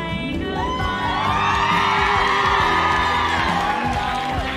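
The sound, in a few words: women screaming and cheering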